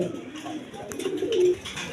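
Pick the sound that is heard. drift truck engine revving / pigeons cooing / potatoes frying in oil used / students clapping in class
pigeons cooing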